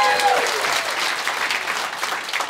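An audience gives an applause break at the opening of a live event: dense, steady clapping fills the room at a fairly loud level throughout, with no pause.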